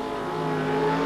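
Race cars roar down a speedway straightaway on the final lap, a steady, loud engine drone with rising revs sustained across the whole moment, no voices.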